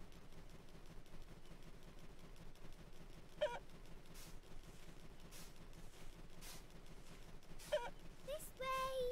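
Chickens cluck in short bursts in the video game My Friend Peppa Pig, with game music and sound effects playing throughout and a few brighter chimes near the end.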